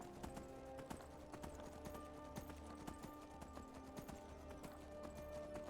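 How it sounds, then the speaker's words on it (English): Horse hooves clip-clop steadily in an even walking rhythm in the video game Skyrim, quiet but clear, with faint background ambience and no talking. "travel by horse is a pleasant experience"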